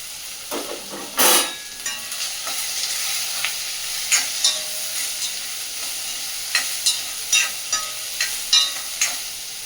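Onion, green chilli and curry leaves fry in hot oil in a kadhai, giving a steady close sizzle broken by repeated scraping stirs of a spatula.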